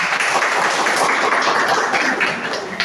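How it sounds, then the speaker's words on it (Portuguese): A small crowd at a community event in Ponta D'água, Sento Sé, Bahia, claps for a winning quiz team, a steady, moderately loud patter of hands lasting a few seconds. "Parabéns para a equipe, salva de palmas."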